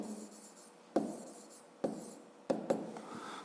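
A pen writes a maths answer on paper in quiet, soft scratching strokes broken by a few sharp taps as the pen meets the page, close and faint.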